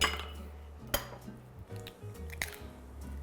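Two large eggs are cracked for omelette rice, giving a couple of sharp close taps on a hard edge followed by soft wet squishes and a faint clink of shell.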